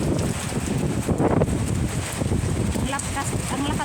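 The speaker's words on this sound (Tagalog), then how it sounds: "Ang lakas ng hangin." Strong typhoon wind in Taiwan roars and buffets the microphone in loud, gusting rushes, with a person speaking over the blustery noise.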